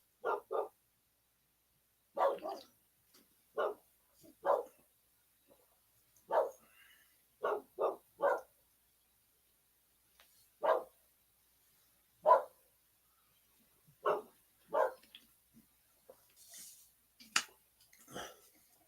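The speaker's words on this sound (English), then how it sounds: "Buddy and Honey are both barking" Dogs bark in short, spaced volleys, sometimes doubled, at moderate distance with quiet gaps between, for about twenty seconds.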